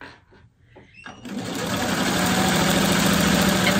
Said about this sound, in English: I use a 1/4-inch seam and I sew them through, and I chain piece.